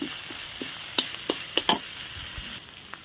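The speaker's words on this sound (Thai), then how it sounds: "ผัดพริกผัดไปผัดมาได้จ้ะ" Chilies are stir-fried in a pan for a Thai banana-blossom and pork hor mok, a low sizzle under a handful of sharp spatula clicks and scrapes, close and alone.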